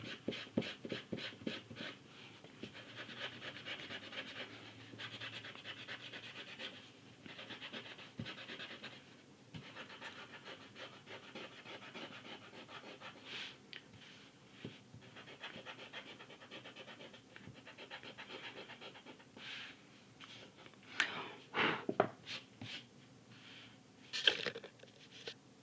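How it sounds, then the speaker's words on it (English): An eraser rubs over a pencil portrait drawing and erases a grid, producing quiet, close, rapid back-and-forth scrubbing strokes in uneven bursts with brief pauses. "get into those smaller areas with a smaller eraser"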